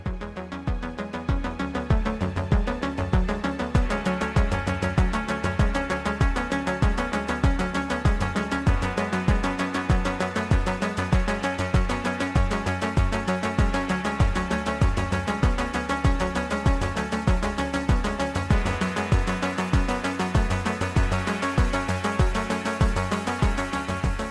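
A steady Italo disco synth-pop track with a pulsing, driving beat and layered electronic synths, playing continuously and loud without vocals standing out.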